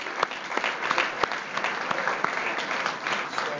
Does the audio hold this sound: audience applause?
yes